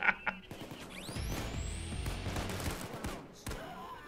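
Shotgun blasts fired at a sniper in the Payday 2 heist video game, loud and close within a dense, continuous stretch of gunfire and game noise lasting several seconds.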